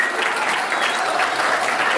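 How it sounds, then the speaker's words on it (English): Steady, dense applause from a dental and facial aesthetics conference audience after a performance, loud and continuous throughout with no pauses. "I request you all to please give them a huge round of applause"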